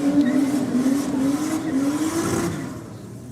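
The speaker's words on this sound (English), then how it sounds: "The engine note out of that Audi is unexpected. Yeah. Sounds like it's got a fairly open pipe on it." An Audi drag car with a fairly open exhaust pipe at Sydney Dragway, a loud, raspy engine note holding and rising steadily, then dropping away near the end, with no talk.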